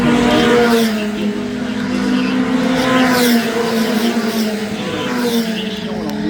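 Race cars roar around the Adams County Speedway oval during a heat race, the 76 car among them, with engine tones sliding as they pass, loud and continuous under an announcer's commentary.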